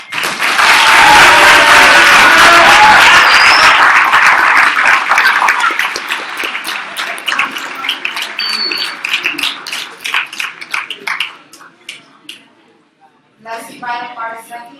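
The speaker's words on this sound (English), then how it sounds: "please hold your applause until the end" Loud audience applause at a 2015 Chicago mayoral candidates forum, a dense burst of clapping that gradually thins into scattered claps before fading, followed by a brief spoken voice.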